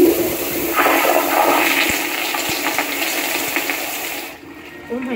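A Kohler Kingston Waterguard toilet at Disneyland Paris flushes with a loud, close rush of gushing water that runs for about four seconds before cutting off abruptly, leaving a quieter trickle.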